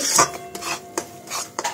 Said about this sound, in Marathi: आपला रवा जवळपास भाजत आलेला आहे